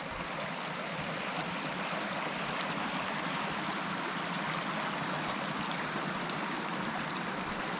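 Fox Creek, a clear woodland stream, flows with a steady, even rushing and burbling of water, close and continuous, with no voices.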